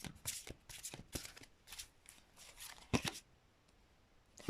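Close, crisp riffling and flicking of a deck of tarot-style reading cards in repeated quick bursts, with soft pauses between.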